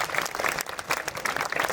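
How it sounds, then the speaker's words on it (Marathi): Audience applause at an honour ceremony for a fallen soldier in a Maharashtra village, a steady dense clapping from a crowd sustained throughout, fairly close and full. "टाळ्या मारा सरांसाठी"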